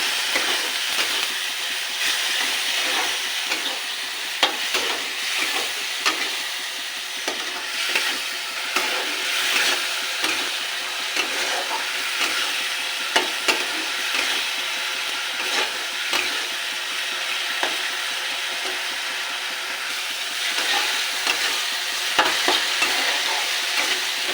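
A masala of ginger, tomato, turmeric, salt, cumin and chili powder sautéing for a spicy boal fish curry, a steady hissing sizzle with repeated scraping stirs of a spatula in the pan, close and continuous, no voices.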